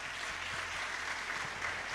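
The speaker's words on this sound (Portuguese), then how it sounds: "eu gostaria de uma salva de palmas para essas 3 pessoas queridas aqui" Audience applause for a panel of three speakers at the close of a smart-tourism event session, a steady broadband patter of clapping held at an even level for the full stretch, with no voices over it.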